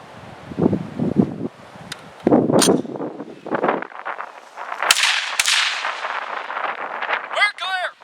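Mini-14 rifle shots fired at a log outdoors, heard as several loud, sharp cracks spread across the clip, with wind noise and rustling between them and some faint vocal sounds.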